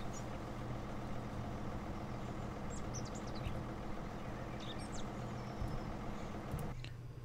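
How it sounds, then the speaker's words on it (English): A John Deere 7530 tractor engine in the Farming Simulator 17 video game idles with a steady low rumble, carrying on evenly throughout with faint chirps above it. "7530 is just a good looking tractor"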